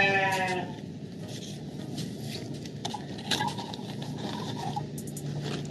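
A sheep bleats once, briefly and close by, during a livestock blood-sampling practical. Shuffling, tapping and handling noises from the animal pen follow the bleat, with no voices.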